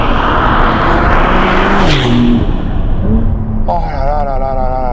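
A Porsche 911 Turbo S Cabriolet (992) launches hard under launch control in Sport Plus mode, its engine roaring loud and close with rising gear-change sweeps, ending in a shrill high whine.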